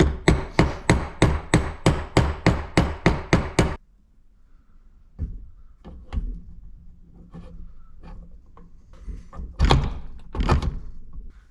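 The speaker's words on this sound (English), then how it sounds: "take a socket that fits around the outside of the seal perfectly and just lightly tap it in" A socket tapped with a hammer to seat a crank seal into a Yamaha YZ125 two-stroke engine case: about a dozen sharp, evenly spaced metallic knocks, close and loud, then softer scattered taps and handling clunks.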